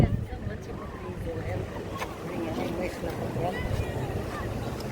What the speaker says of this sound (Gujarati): એક નવી બોટ આવે પાછી